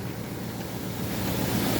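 A Boguslav Titan 24 m agricultural sprayer is being washed with a high-pressure water jet forced through a mesh screen. It makes a loud, steady, broadband hiss that swells slightly, with no voices.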